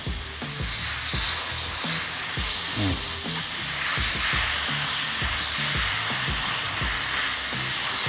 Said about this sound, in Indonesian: semprot terus sampai emang bener-bener cairannya atau airnya itu turun